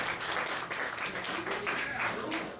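An audience at a comedy show claps in a brief, steady burst of applause from a small crowd, heard at moderate distance.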